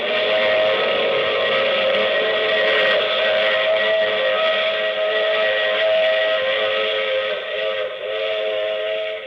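Steam train whistle in an old radio mystery drama, a loud sustained multi-tone blast held for several seconds, with the train's rumble underneath and no speech.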